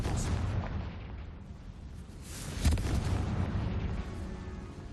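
A Confringo fire spell bursts in Hogwarts Legacy inside a tomb, giving one deep booming blast midway through over a rumbling low background, with game sound around it.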